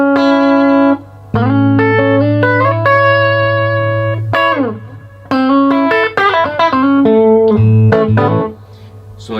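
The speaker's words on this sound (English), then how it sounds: "this has a reverb" An electric guitar plays through an amp with reverb: sustained single notes and short phrases ring out loud and clear, with pauses between them and no talking.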